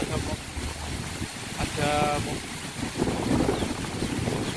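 Strong wind gusting through a rural village in Trenggalek, a continuous roaring rush that swells and fades, with people talking over it.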